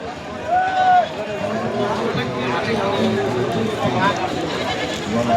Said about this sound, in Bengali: আমরা এখানে মা বাচ্চা ছাগল দেখছি